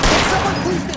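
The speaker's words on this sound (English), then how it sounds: "Oh my god, that guy tried to shoot me right there." A burst of gunfire in LA Noire Remastered, several sharp shots fired in quick succession, loud and close, with a voice heard briefly alongside.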